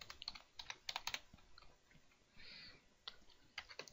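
Computer keyboard typing in irregular bursts of close, crisp key clicks with short pauses, entered as code for a Minecraft mod; no talking.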